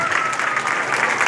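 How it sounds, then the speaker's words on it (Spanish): Guests at a quinceañera party applaud, a short burst of dense clapping at steady loudness. "¡El aplauso para Brenda!"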